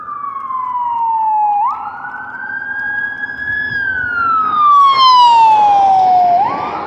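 A loud wailing ambulance siren at a car accident sweeps slowly up and down in pitch, close by, with a faint rumble of traffic underneath.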